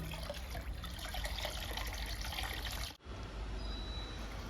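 Homemade ajwain leaf liquid poured onto indoor potted plants such as a syngonium, a steady close trickle of liquid that briefly cuts off and then resumes, with no talking.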